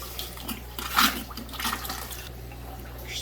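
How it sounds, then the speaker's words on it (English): Water sloshing and pouring during an aquarium water change in a fish room with pleco tanks, moderately loud splashing surges over a constant low hum, without speech. "Just doing a rough water change here"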